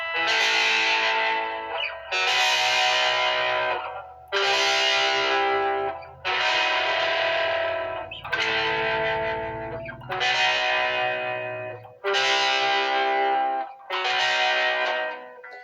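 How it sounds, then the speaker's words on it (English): A clean-toned electric guitar plays chords, eight strummed chords, each left ringing and spaced about two seconds apart, close and clear. "And then we're going to switch into a clean tone."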